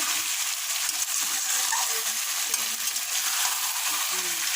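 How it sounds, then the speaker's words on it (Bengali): Meat sizzles and fries in oil in a pot for homemade rice biryani with tomatoes, a steady crackling hiss broken by occasional scraping stirs. "এই মাংসটা ভালো করে তেলে মিক্স করে নিতে হবে মাংসটা নাড়াচাড়া করে নিয়েছি"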